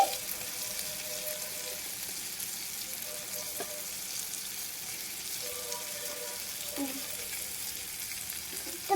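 Chopped egg frying with rice in a pan, a steady soft sizzle running evenly throughout with faint stirring scrapes and no talk.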